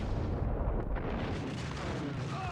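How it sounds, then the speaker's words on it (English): Gunfire in the video game Max Payne, a dense, loud rumble of shots and booming impacts filling the whole stretch, with a couple of sharper cracks standing out early and no talk. "Ah, the bullets didn't hit him."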